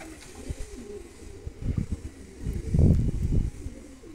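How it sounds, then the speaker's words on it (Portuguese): Pigeons feeding on corn in Sarzedo, Minas Gerais give soft, low coos in several short bursts, growing fuller and louder toward the end over light background noise. "Tem pombo pra caramba aí, ó."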